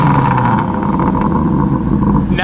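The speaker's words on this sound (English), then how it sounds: "That sounds very good when you rev it up towards the red line" BMW M3 CSL engine revving, a loud steady high-pitched drone held close up that climbs toward the red line, with a faint voice in the background.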